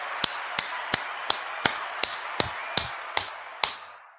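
Ten sharp hand claps in an even, steady rhythm, close and loud, with a short ring after the last one, no voices over them.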